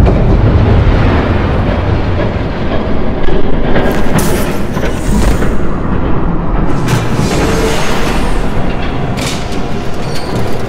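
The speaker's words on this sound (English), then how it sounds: "There's a train coming!" Train approaching in the Batman Telltale Series video game, a loud, dense roaring rumble that holds steady throughout, with sharper metallic bursts and surges layered on top.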